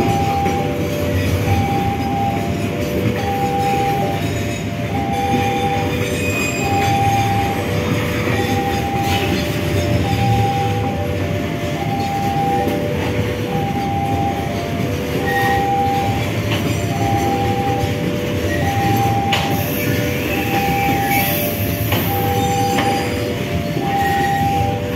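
A CC 201 diesel locomotive hauls a long train of flat wagons past on double track, a continuous rumble with rhythmic clickety-clack of wheels over rail joints and metallic clinks, plus a brief horn-like tone near the end.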